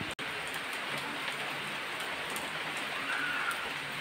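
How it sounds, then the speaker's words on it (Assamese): Steady rain falls outside a balcony, an even, soft hiss of drops on surfaces with one brief click near the start and no voices. "এজ ইউজুৱেল এতিয়াও বৰষুণ দি আছে"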